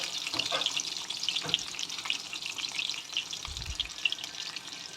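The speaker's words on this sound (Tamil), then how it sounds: "அதில் ஒவ்வொரு கத்திரிக்காவை சேர்த்து ஃப்ரை பண்ணி எடுப்போம்." Brinjal pieces fry in ordinary cooking oil in a pan, giving a steady close sizzle with crackling pops and a few soft stirring knocks.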